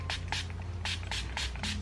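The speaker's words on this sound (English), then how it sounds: "We're just gonna quickly set our faces" Makeup setting spray mists onto the face in about six short, hissing bursts in a steady rhythm, close and clear over a low room hum.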